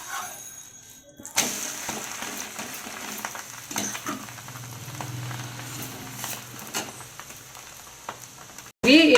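Dosa batter is poured onto a hot pan on a home kitchen stove and sizzles in a steady crackling hiss with small spatters, ending in a brief loud clatter.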